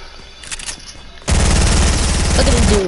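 Video game gunfire: after quieter clicks and faint background sounds, a loud, sudden burst of rapid automatic shots erupts and continues steadily, close and dominant.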